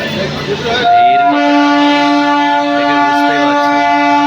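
A local train bound for Andal sounds a long, loud, steady horn as it pulls into a crowded station platform, following a brief burst of nearby voices and bustle at the start.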